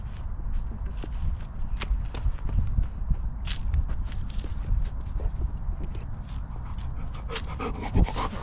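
Large dog walking in a park in the evening, panting with a steady rhythm of footsteps on the ground, close by, with soft background noise and faint voices.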